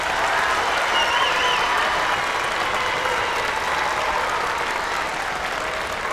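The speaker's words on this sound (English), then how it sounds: "Let's have another round of applause for Ms. Harney and Ms. Forrest." An audience at a spring concert by a fifth- and sixth-grade school band applauds loudly and continuously, a dense even wash of clapping that fades only slightly over six seconds, with no talking over it.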